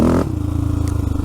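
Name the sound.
ATV engine being bump started in leaves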